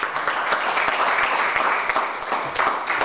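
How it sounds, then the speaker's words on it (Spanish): A church congregation at a Pentecost service applauds loudly and steadily, dense continuous clapping filling the room without pause for a few seconds. "¿Cuánto le dan un aplauso fuerte al Señor?"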